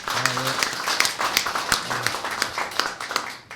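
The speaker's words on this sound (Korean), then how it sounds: "감사의 박수를 보내주시기 바랍니다" A crowd at a Korean civic ceremony applauds a city mayor with a dense, continuous wash of clapping, close and lively, while a brief voice or tone sounds near the start.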